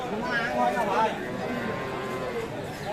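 Friesian cows and calves low at a cattle market at Aftabganj haat in Dinajpur, with a loud nearby moo over murmuring crowd chatter and people talking in the background.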